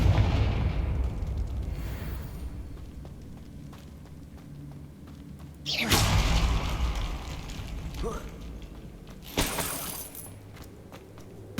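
Fiery Confringo spell blasts from the Hogwarts Legacy game go off as loud booming bursts, two big hits and a smaller one spaced a few seconds apart over a low rumbling game ambience.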